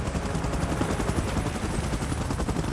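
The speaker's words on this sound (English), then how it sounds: "Chopper in position." Helicopter in the PUBG Mobile game, a dense, steady rotor chop with rapid beating close up, loud throughout, mixed with bursts that resemble gunfire, no speech.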